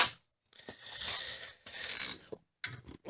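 Metal clicking and scraping of a wrench working 18mm bolts loose on the rear brake bracket of a Chevy 3500, in short bursts separated by pauses, close and fairly loud with no talking.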